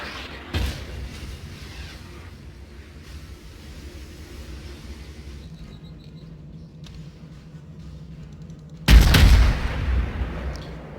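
Naval shell fire in World of Warships, with a sharp distant boom early on and then a loud, heavy salvo blast near the end over a steady low rumble of engine and ocean ambience.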